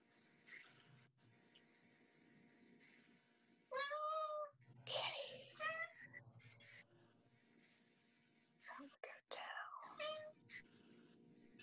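A cat meows several times at close range, drawn-out wavering calls in a quiet room, with soft whispering and sparse background noise between the meows.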